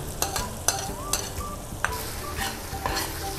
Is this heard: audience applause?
no